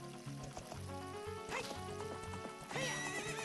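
A horse, Epona in The Legend of Zelda: Ocarina of Time, neighs and whinnies in a couple of shrill bursts amid hoof clatter, close and fairly loud, with no talking.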